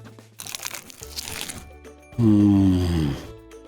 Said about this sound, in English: It is so crispy and crunchy on the outside.